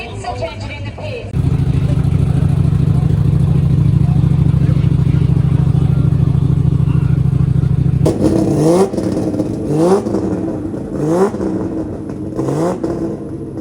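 Nissan R34 GTR, an N1 car, doing a burnout on a racetrack at a GTR festival: a long, loud, steady engine drone held at high revs, then a run of sharp revving bursts and blips.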